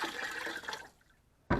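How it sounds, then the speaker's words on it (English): A small splash of water is poured into a thick ceramic glaze, a soft liquid pour that fades to quiet before a sudden short burst of splashing at the end. "I'm going to add more water back"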